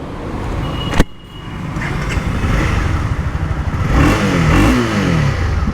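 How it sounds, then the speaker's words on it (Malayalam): A Honda CB300R motorcycle with a 286cc engine fires up with a sharp click, then idles loudly close by before several rising revs. "ഇതാണ് വണ്ടിയുടെ സൗണ്ട്."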